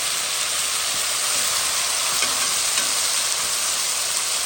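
Chopped tomatoes and thyme simmer gently in a pan for a boucané with cabbage, giving a continuous, even sizzle and crackle close up with no talking.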